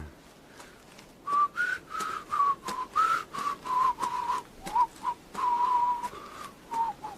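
Someone whistles a slow melody in clear, sustained notes with short breaks between phrases, close and alone over faint background noise.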